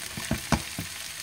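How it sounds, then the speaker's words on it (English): Vegetables sautéing in a pan for shrimp teriyaki lettuce wraps, with a soft steady sizzle and a few dull stirring knocks spaced through the short stretch, close and moderately quiet. "I have dropped the vegetables in the pan."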